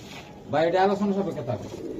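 Hungarian Budapest racer pigeons coo in a single close, throaty, rolling call lasting about a second.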